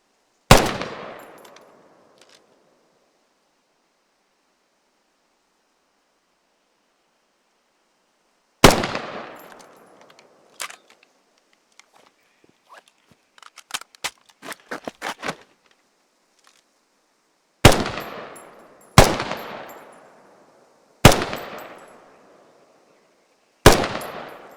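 Single heavy gunshots from a machine gun in a squad shooter game, loud isolated blasts with long ringing tails, spaced apart, with a quick cluster of lighter clicks and rattles between them.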